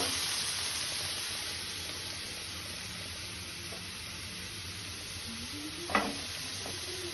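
Mustard pabda fish curry sizzling steadily in a pan as it is sautéed, a continuous close frying hiss with a brief clink of a utensil near the end.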